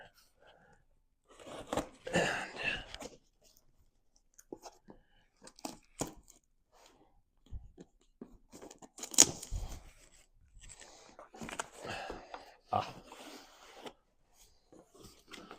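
Packing tape being ripped off double-boxed cardboard shipping cartons holding custom bows, coming as irregular bursts of scratchy tearing and crinkling separated by short quiet gaps, close and moderately loud.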